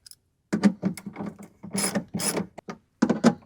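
Ratchet wrench removing 10mm screw bolts from a Toyota 4Runner speaker panel, close bursts of rapid clicking ratcheting separated by short pauses, alone.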